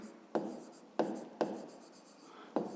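Pen writing on paper while working a 5th-grade math exercise, four distinct scratchy strokes in an uneven rhythm, close and fairly quiet, no talking.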